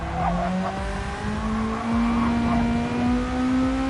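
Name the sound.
Volkswagen Beetle engine in Gran Turismo 7 video game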